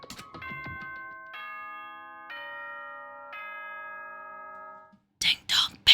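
Danganronpa Trigger Happy Havoc announcement chime: a series of bright, sustained bell-like ding-dong tones ringing out one after another and slowly decaying, followed by a few short bursts of noisy sound at the end.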